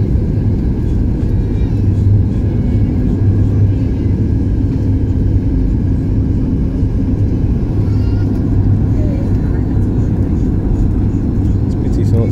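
Airplane cabin on approach to land at Edinburgh airport, with a loud, steady low engine drone and rumble filling the cabin throughout.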